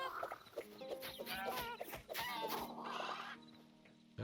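Turkeys in the game Hytale gobble and cluck in quick, chattering bursts, moderately close, over a low background hum.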